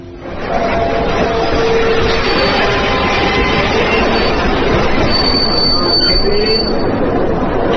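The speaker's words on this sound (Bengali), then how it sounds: "ট্রেন এলো 10 মিনিট লেটে।" A train pulls into a station as a story sound effect, loud and continuous, with rumbling wheels on the rails and long high metallic squeals of braking wheels that rise near the end.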